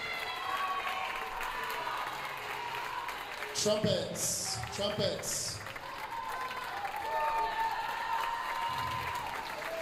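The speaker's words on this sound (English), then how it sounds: "French horn, stand up, accept a round of applause." Applause from the audience at a 7th and 8th grade school band concert, a moderate round of clapping in the hall with cheering swelling briefly midway, while an announcer speaks over it.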